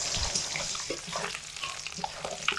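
Eggs seasoned with salt and turmeric frying gently on low heat in a pan, a soft crackling sizzle with light stirring and scraping clicks, close and moderately quiet.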